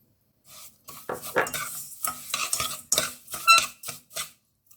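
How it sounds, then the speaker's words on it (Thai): Sugar melting over low heat for caramel, stirred with a utensil scraping and clinking against the pot in a string of short, close strokes, with a faint sizzle underneath. "ตอนนี้น้ำตาลเราก็เคี่ยวมาแบบละลายดีแล้วจ้ะ"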